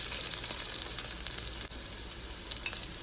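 Garlic fries in melted coconut oil with a close, constant crackling sizzle and faint stirring scrapes, and no one speaks.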